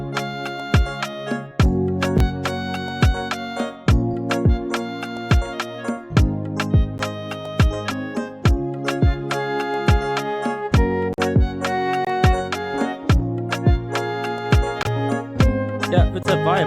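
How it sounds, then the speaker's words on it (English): A clarinet-like lead built in FL Studio for an afrobeat track, playing a melodic line over steady drums, bass and percussion, loud and continuous with rhythmic hits throughout. "So now we're gonna add like a clarinet sound."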